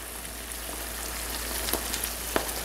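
Butter melting in a mushroom risotto pan gives a soft, steady sizzle with faint crackles and a couple of small pops, quiet and continuous without voices.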